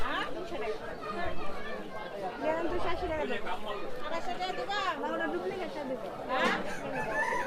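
Sonali and broiler chickens at a stall in a busy riverside Bangladeshi market: rooster crowing and clucking mixed into dense crowd chatter, with people talking continuously nearby.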